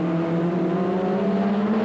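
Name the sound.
Formula Ford 1600 race car accelerating up through the gears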